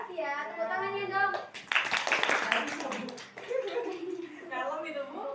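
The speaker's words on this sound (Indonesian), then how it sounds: "Makasih ya, tepuk tangannya dong" A classroom of children applauds with a short, dense burst of clapping lasting about two seconds, framed by someone talking before and after it.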